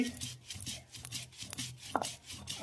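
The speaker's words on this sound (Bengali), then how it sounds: "আদা জিরেটা একটু সুন্দর করে বেটে নিচ্ছি" Ginger and cumin being ground into a paste on a stone, a rough rhythmic rubbing and scraping with short repeated strokes, close and fairly quiet.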